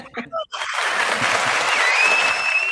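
After a short spoken phrase, steady applause swells up and fills the rest of the stretch, an even wash of many hands clapping at moderate volume during a podcast conversation.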